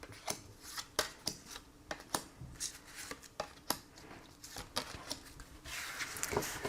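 Tarot cards shuffled for a reading, a quick run of crisp papery riffs and slaps close by, with a denser rustling flurry near the end and no talking.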